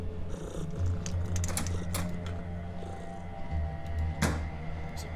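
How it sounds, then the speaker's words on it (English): A cat purring in the video game Underrail, a soft continuous low rumble beneath faint clicks and mechanical ambience, no voices. "There's a cat here."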